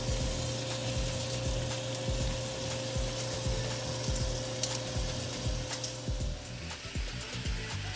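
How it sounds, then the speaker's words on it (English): Bacon sizzling in a pan on a stovetop set to medium, a steady crackling hiss with scattered pops, constant and fairly close, with a faint hum underneath and no talk. "So while my bacon is cooking,"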